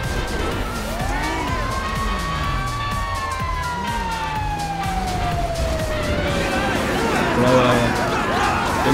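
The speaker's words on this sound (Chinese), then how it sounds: "另外一台消防车来了" A fire truck siren in the video game GTA 5 wails in long rising and falling sweeps, fairly close, running under excited talk from a player.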